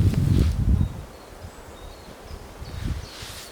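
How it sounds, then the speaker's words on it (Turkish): Wind moves through tall forest trees at a wild campsite, a soft rustle of leaves swelling at the start and again near the end, with a low airy rush in between. "Esen bir rüzgar bu ağaçları esnettiği zaman çok güzel bir, hoş bir ses ortaya çıkarıyor."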